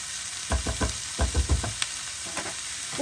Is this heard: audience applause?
no